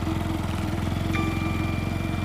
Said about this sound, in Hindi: फिर बाइक को तेज़ी से किक मारता है, जिससे बाइक स्टार्ट हो जाती है